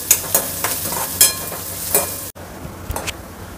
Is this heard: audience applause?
no